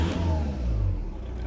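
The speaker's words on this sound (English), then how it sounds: "car is running" A car's engine runs steadily after an immobiliser delete from its engine ECU, a close, loud mid-pitched hum with a slight rev at the start.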